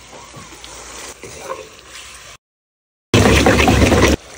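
Beef sizzles in a hot pan, then a sudden loud burst of hissing as marinade hits it, close up and intense before cutting off.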